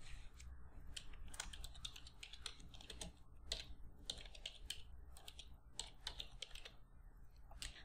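Fingers type quickly on a computer keyboard, a close, irregular run of light plastic key clicks with brief pauses between bursts. Nobody speaks.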